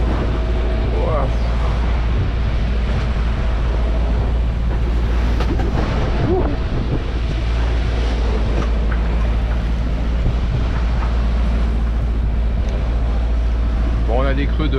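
A Beta Marine 50 hp sailboat engine drones steadily at sea, its loud, constant low rumble mixed with wind buffeting the microphone, while a voice talks over it.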